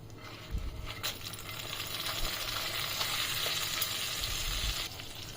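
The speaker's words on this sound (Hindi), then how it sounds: "तो चलिए इसी में ऐड कर देंगे गर्मा गर्म हमारा तड़का" Hot oil sizzles loudly as tempering hits the chutney, a sudden burst of crackling that holds steady before easing off near the end.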